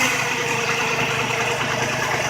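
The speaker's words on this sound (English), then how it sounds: "But actually she's idling now fine." A Ford Taurus 3.0 or 3.8 V6 idles steadily after cleaning of its idle air control valve. The low engine hum and mechanical whir hold a constant, even drone, close and fairly loud, with no talk.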